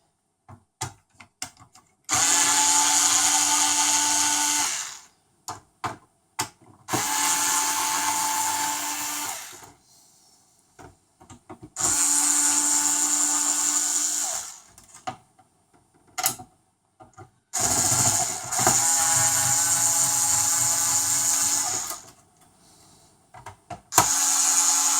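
Electric screwdriver backing black Phillips screws out of a PS4 CUH-12XX console, heard as four loud, steady whirring bursts of a few seconds each, separated by quiet gaps with small clicks and handling taps.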